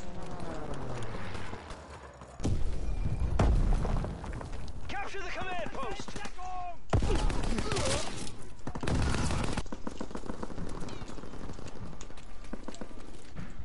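Suppressing gunfire in a Call of Duty WW2 fight for a command post: loud bursts of rapid shots and heavy blasts, repeating over several seconds, with a player talking in between.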